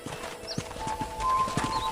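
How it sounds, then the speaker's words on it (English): Horse hooves clip-clop at a steady walking rhythm in the Red Dead Redemption video game, close and moderately loud, over a faint background hum with a brief whinny-like tone in the mix. "I picked out a fine horse for you."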